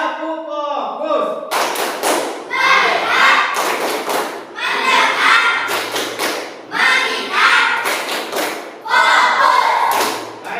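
A classroom doing the rhythmic clapping game "tepuk fokus", children and a teacher clapping together in loud, patterned bursts separated by brief chanted calls.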